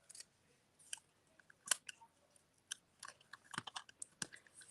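Scissors snip a small snowflake shape out of cardstock, a quiet close series of short, irregular crisp cuts.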